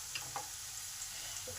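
Grated ginger is stirred in a pan with half-cooked peas and vegetables for a brinjal dish, giving a faint, steady frying hiss broken by a few light spatula clicks.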